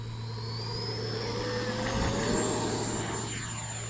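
An E-flite Viper RC jet plane flies overhead, its steady loud turbine whine and rushing air holding throughout and shifting pitch as it passes, with no talking.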